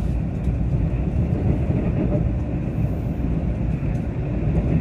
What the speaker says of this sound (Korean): 기차가 당연히 승부 이겼고요